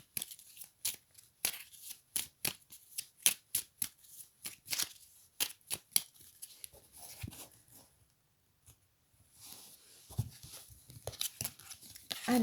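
Tarot cards being shuffled in a run of crisp riffles and taps, close and fairly loud, then a quieter pause before softer handling of the deck resumes near the end.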